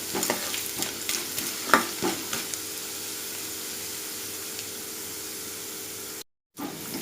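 Onions and garlic fry in a pan for potato poori masala, a steady close sizzle with stirring scrapes and clicks early on, continuing evenly before a brief cut-out near the end.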